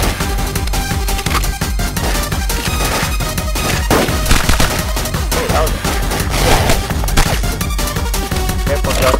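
Rapid, loud gunfire from the Fistful of Gun video game fills the whole stretch as a dense barrage of overlapping shots with no pauses.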